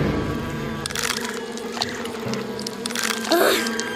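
Buzzing of a swarm of grasshoppers in an animated cartoon about a tomato garden, a steady dense insect drone that carries on throughout over background music.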